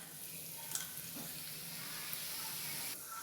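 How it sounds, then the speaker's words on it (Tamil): Mustard seeds and chana dal fry in hot oil, a soft, steady sizzle with a few faint pops, heard close and alone. "இதில் கொஞ்சமாக கடுகு பொரிஞ்சதும் கடலப்பருப்பு போட்டுக்கலாம்"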